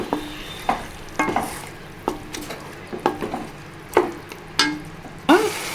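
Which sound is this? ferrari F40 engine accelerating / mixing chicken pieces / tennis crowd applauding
mixing chicken pieces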